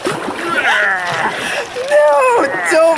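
A kayak paddle splashes and sloshes through the water on an outdoor trip in Finland, steady watery churning under excited voices talking throughout.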